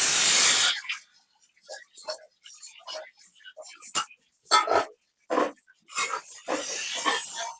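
Dal poured into jute leaves cooking in a pan sets off a loud hiss and spatter at first, then fades into intermittent sizzling crackles and clinks that return in scattered bursts.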